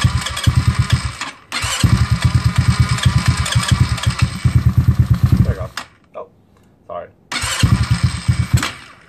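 A GY6 scooter engine cranks and cold starts, its rapid rhythmic chugging running in long bursts with brief pauses between attempts, close and loud, with a few short faint sounds in the gaps.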